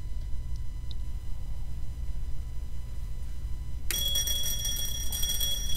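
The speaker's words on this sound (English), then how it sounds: "You can hear clearly the bell." A low hum runs throughout, then an electric bell inside a vacuum jar starts ringing continuously and loudly, buzzing with a bright metallic tone.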